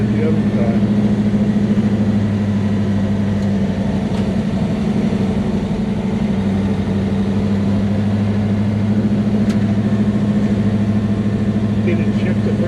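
A 1967 Chevelle drag car engine drones steadily throughout at a low, even pitch, running loud and close on a test drive while people talk over it.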